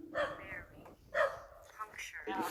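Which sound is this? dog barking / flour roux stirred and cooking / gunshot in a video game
dog barking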